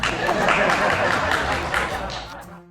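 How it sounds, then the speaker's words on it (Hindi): Audience applause in a studio, a short burst of dense clapping with crowd murmur that fades out over about two seconds. "ख्वाजा आसिफ के लिए तालियां।"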